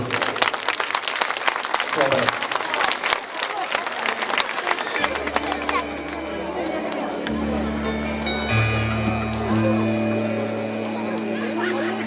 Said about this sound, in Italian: Voglio sentire un applauso per vedere quanti ce ne sono.